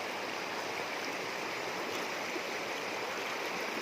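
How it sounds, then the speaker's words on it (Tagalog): A mountain creek flows steadily nearby, its continuous rushing, hissing water filling the scene with no other sounds. "hindi ko to makalimutan nung sapa na to. Ang laki dito, malalim rin to noon."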